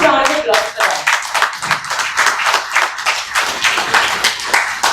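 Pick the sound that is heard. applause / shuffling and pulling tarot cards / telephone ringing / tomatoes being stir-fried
applause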